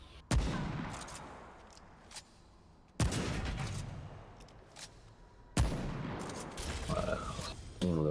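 Three sharp, loud weapon blasts in the video game Remnant: From the Ashes, each ending in a long rumbling tail, evenly spaced about every two and a half seconds.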